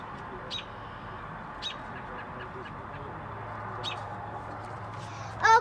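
A baby bird gives a few short, sharp calls spaced out over steady wind noise outdoors, with a louder burst of chirping at the end.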